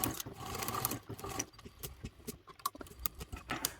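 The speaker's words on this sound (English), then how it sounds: "I am hand cranking at the moment" A hand-cranked sewing machine top stitches a backpack strap, its needle clattering in a fast, slightly uneven rhythm, close and clear with no talking.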